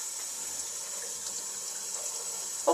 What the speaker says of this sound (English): So water is coming out of the hose, the line.